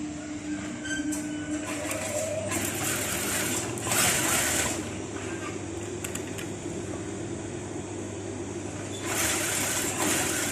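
A sewing machine stitches a trouser pocket in a steady mechanical hum, with bursts of faster, brighter running scattered through the stretch.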